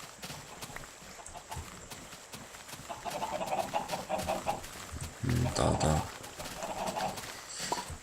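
Chickens in the video game Minecraft cluck and patter in short bursts among hollow clip-clop footsteps, with someone speaking briefly over the game sounds.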